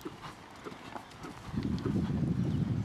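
Horse hooves cantering in a riding arena, a soft rhythmic clip-clop that grows louder and fuller partway through, with a faint voice in the background.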